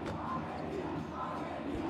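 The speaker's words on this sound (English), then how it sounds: "Crowd getting entertained with a few songs at halftime here." Basketball arena crowd during halftime of a FIBA World Cup qualifier between Argentina and Panama, singing along to songs, heard as a steady, dense roar of many voices filling the hall without a break.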